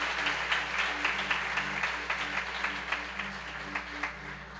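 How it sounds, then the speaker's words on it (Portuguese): A church congregation claps together in a sustained, fairly even burst of applause, heard at moderate distance over a low steady hum. "Vamos aplaudir o Senhor bem forte."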